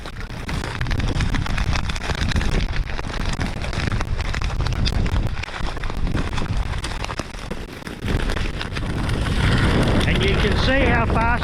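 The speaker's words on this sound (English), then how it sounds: "The wind today is not particularly strong" Wind gusting across an open paddock during stubble burning, a loud continuous rushing roar buffeting the microphone, with crackling fire mixed in and a voice talking briefly near the end.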